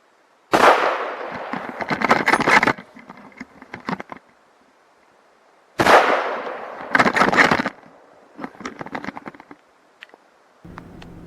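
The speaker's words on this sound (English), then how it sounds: "I heard my first shot, blew it right over the back of that moose" Two loud rifle shots are fired at a moose during an Alberta hunt, several seconds apart. Each sharp blast trails into crackling echoes and rustling noise in open country.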